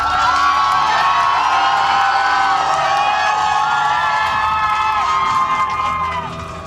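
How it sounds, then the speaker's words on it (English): A large outdoor crowd cheers, shouts and whoops loudly and without a break as free solo climber Alex Honnold finishes his climb, a dense roar that fades slightly at the end. "Here's the response from the crowd when he finished the climb."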